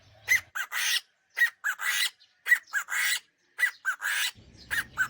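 A plump chicken gives a loud, piercing run of repeated squawking calls in quick bursts, very close, with brief gaps between them and a low rumble near the end.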